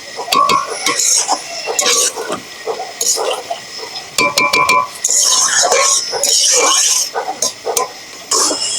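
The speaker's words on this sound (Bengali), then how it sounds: "এর মধ্যে আমি একটু হালকা জল ঢেলে দিয়ে আবার কষে নেবো এইভাবে আমি কষে দেবো" Chicken being stir-fried in a pot with a splash of water, a metal spoon clanking and scraping against the pot in irregular bursts, with wet sizzling hiss rising in the second half.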